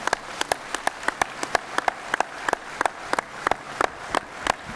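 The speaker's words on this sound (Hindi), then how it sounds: "तो एक बार जोरदार तालियां हो जाए इन सब के लिए।" Scattered applause for ten honorees at a Patanjali village-industries event in Haridwar, heard as a string of distinct, sharp claps spaced fairly regularly, thin and modest rather than a full roar, with no talking.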